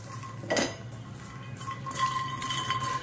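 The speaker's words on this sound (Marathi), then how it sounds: "आपण त्याला चांगलं कडक भाजायचं आहे" Makhana (fox nuts) roasted crisp in ghee and stirred in a pan, heard as close metallic spoon scrapes and clinks against the pan, with a sharp burst early on and rougher stirring later, no voices.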